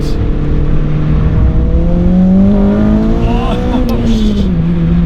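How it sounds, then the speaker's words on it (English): A Honda Integra Type R with a K20a engine and Mugen suspension drives at speed, its engine drone holding a steady pitch that climbs gradually under acceleration, heard loud and continuous from inside the car. "I just love driving my Integra"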